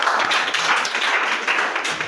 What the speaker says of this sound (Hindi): चलिए अंकिता के लिए तालियां हो जाए।